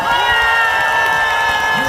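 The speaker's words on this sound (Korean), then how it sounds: "이 시간에 박사진 정말 잘했다 생각하시면 큰 박수 한 번만 주시겠어요?" At an outdoor twentieth-anniversary ceremony, a crowd answers a request for applause. The sound is a loud, sustained burst of cheering and shouting voices, with some clapping mixed in.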